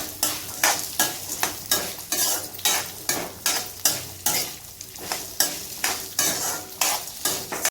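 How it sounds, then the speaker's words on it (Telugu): Ginger fried in peanut oil in a pan, with a spoon stirring in quick regular strokes over a continuous sizzle, close and fairly loud with no voices. "ఇది ఒక్కసారి నిమిషం వేయించేద్దామండి. ఇది కూడా అల్లం కూడా వేస్తాను."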